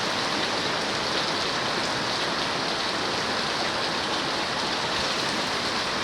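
Heavy rain pouring down steadily, a dense, unbroken roar of water hitting surfaces close by, with no voices.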